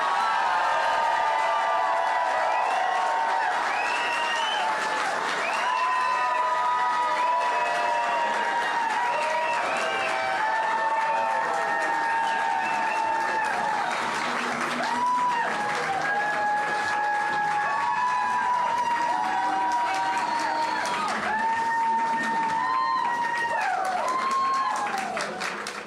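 A large crowd cheers and applauds for Alabama governor Kay Ivey at her reelection victory rally, loud, sustained clapping mixed with shouts and whoops that rise and fall in waves throughout.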